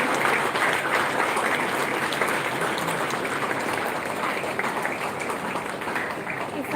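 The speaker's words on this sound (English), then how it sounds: "Please applaud, audience." An audience at an annual day function applauds steadily for the full stretch, a dense, close wash of many hands clapping with some crowd voices mixed in underneath.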